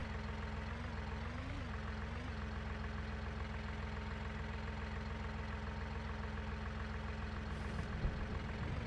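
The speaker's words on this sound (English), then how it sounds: "Really is a fine little tractor." A base-model Massey Ferguson tractor engine idles steadily in Farming Simulator 19, a low continuous rumble that holds throughout with no voices.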